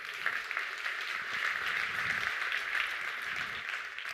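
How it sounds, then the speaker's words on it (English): Indoor audience at a brain health talk giving a round of applause, steady moderate clapping heard alone for several seconds. "Give yourselves a round of applause."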